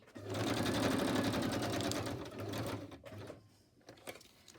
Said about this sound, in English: I'm just stitching around these pockets, and I think they're going to be super pretty.